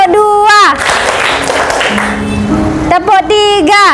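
Classroom of students clapping together, a dense burst of many hands between stretches of a teacher's voice, loud and close with speech at the start and end.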